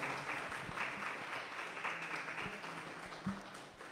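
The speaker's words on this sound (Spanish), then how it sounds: "les damos un fuerte aplauso al contador Arnoldo y al licenciado Leonardo" Applause for two invited speakers at a Chamber of Commerce tax information talk in San Martín Texmelucan, a steady wash of clapping from a crowd lasting a few seconds, moderately loud with no voice over it.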